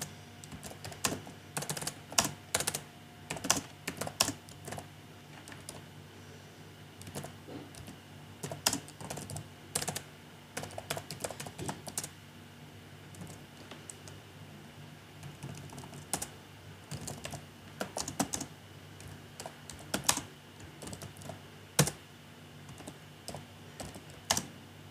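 Typing on a computer keyboard while writing text in the Vim editor on Red Hat Linux produces quiet, irregular clusters of close key clicks continuing steadily throughout, with no speech.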